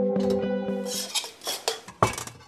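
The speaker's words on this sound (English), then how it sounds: "These pots are banging for a very good reason." Metal pots bang and clatter together repeatedly, loud and close, with ringing metallic tones and sharp irregular strikes.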